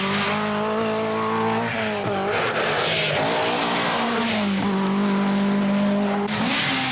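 A Vauxhall Chevette rally car races on the RAC Rally, its engine droning loud and close, rising and falling through gear changes over a constant roar of tyres and road.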